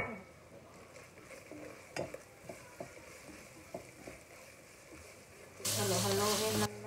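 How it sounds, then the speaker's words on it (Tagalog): Picadillo being stirred in a pan, with scattered scraping and tapping of a utensil over a low sizzle, then a sudden loud burst of frying toward the end. "Halo-haloin lang natin"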